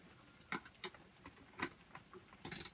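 Faint metallic clicks and scrapes as a breech plug is screwed back into a dirty muzzleloader, a few separate ticks followed by a short rattling burst, quiet with no talking.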